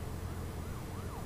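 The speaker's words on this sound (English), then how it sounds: "Police cars going everywhere, man." Police car sirens wail in The Walking Dead video game, several overlapping rising and falling tones sweeping steadily over a low rumbling background, fairly distant and continuous.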